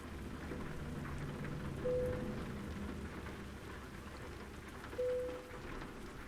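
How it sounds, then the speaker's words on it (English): Rain falls steadily and at a low level during a night drive through Texas in American Truck Simulator. A dull rumble sits under it, and two short tones cut through, with no voices. "How much rain is there in Texas?"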